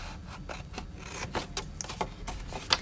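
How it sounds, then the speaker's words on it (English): Scissors cut paper along a score line for a Christmas rose box in a string of short, quiet snips and rasps, close by, with no talking. "I'm gonna continue on that path and cut up to that first score line"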